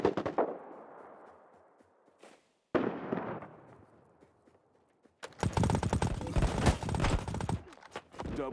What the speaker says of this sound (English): Relying too much on that hip fire.